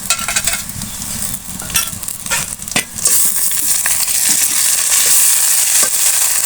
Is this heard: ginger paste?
yes